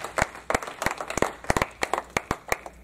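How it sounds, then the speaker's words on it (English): A church congregation claps along during worship at a believers' service, sharp hand claps landing in a steady, rhythmic beat, close and loud, with no voices over them. "Clap for this Jesus"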